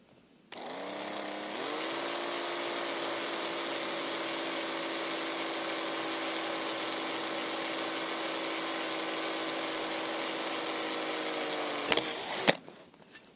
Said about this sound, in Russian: Протестируем сверло на практике. В качестве подопытного кусок алюминия 2 мм.